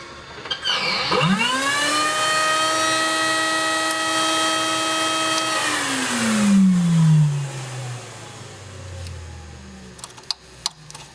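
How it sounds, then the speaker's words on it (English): A Factory Cat 390 floor scrubber's vacuum motor switches on with a rising whine, holds a steady high-pitched tonal drone for several seconds, then winds down in a falling pitch, followed by a few faint clicks. "by turning this switch up and attaching a vacuum wand to the recovery system in the rear, it'll automatically turn on my vacuum motor"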